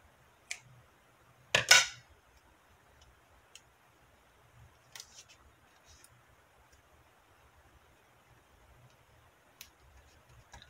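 Scissors snipping through paper while altering an envelope in a crafting session, one sharp close cut with a crisp rasp, followed by sparse faint clicks and light handling noises.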